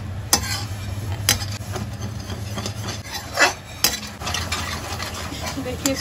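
Milk being cooked down into khoya for gud barfi is stirred and scraped in a pan, with frequent sharp clinks and scrapes of a utensil over a faint sizzle.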